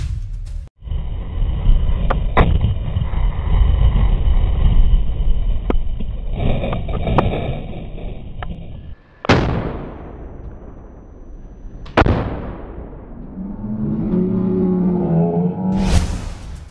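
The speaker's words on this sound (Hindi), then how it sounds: "यहाँ पर एक जीप को आरपीजी का निशाना बनाया जा रहा है। शुरुआत में 3 बार शॉट मिस होता है, पर चौथी बार पड़ जाता है।" An RPG launcher is fired at a jeep, giving several sharp blasts and booming explosions with rumbling decay over steady background noise, the last blast ending in a crackling burst.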